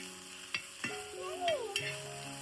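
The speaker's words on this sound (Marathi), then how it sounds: "आता परतवून घ्यायचं ना." Okra with garam masala is stirred in a pan on the stove, a soft steady sizzle under repeated scraping strokes of a spatula, close and moderate in level.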